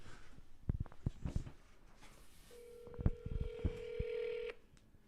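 A phone keypad dials out as a call is placed: a string of short, distinct touch-tone beeps in an uneven rhythm, then one longer held tone, clear and close with no one talking.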